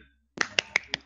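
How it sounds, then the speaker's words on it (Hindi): Students in a classroom give a short burst of clapping for a classmate, four sharp, evenly spaced claps after a brief silence, close and fairly quiet. "सब लोग तालियां बजा दें एक मरतबा।"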